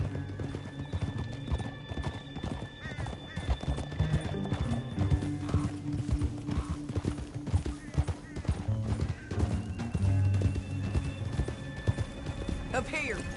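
Horse hooves clip-clop in Red Dead Redemption 2, rhythmic steady thuds from several riders that continue throughout, with a horse whinnying and game dialogue and music over the top.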